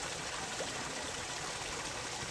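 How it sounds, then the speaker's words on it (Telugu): Water running down from the hill at Chilakalagutta near Medaram, a faint, steady trickling stream heard alone at low level. "అక్కడి నుంచి నీళ్ళు ఇక్కడికి వస్తున్నాయి"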